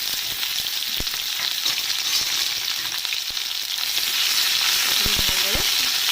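Onions hit hot oil in a kadai already seasoned with cardamom and cinnamon, setting off a loud, continuous sizzle that holds steady throughout, with a few sharp clinks of utensils near the end.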